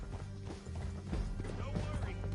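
Galloping horse hooves in the western game Red Dead Redemption 2, a dense rapid pounding rhythm over loud music and game effects, with voices mixed in.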